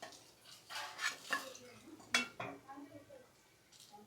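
Golden fried bread being lifted out and set into a separate vessel, with soft clinks and scrapes of utensil against metal dishware, a few sharper knocks spaced irregularly, fairly quiet and close.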